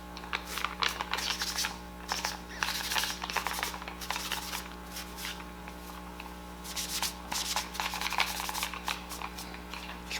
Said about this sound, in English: Let's go ahead and scuff this down so it's not real shiny and new.